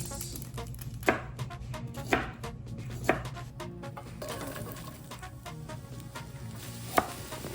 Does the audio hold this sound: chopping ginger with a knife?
yes